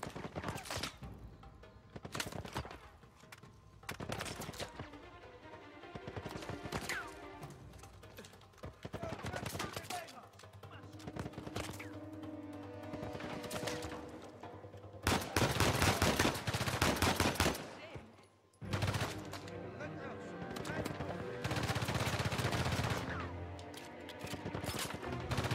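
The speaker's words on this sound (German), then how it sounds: "Wo schießen die denn da so heftig?" Heavy gunfire in Uncharted 4, repeated bursts of automatic fire and single shots in dense clusters over about twenty-five seconds, loud and close with a few crashes, a voice speaking now and then.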